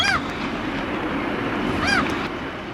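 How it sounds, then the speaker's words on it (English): Seagulls calling near the water in Finland: two sharp, screeching cries, one at the start and one near the end, rising over a steady wash of background noise. "The seagulls."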